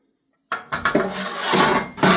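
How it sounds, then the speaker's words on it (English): Metal ash pan of a Harman 52i pellet insert being slid back into place, a few sharp clanks and knocks followed by a scraping, rattling slide with a final clunk, close by. "So let's go ahead and reinstall the ash pan."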